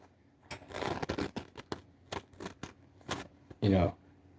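A very sharp Kissaki Scandi knife slicing through toilet paper, quick close papery rasps and brisk swipes, ending in one louder tearing stroke, with someone talking over it.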